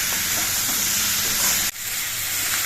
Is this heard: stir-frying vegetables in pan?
yes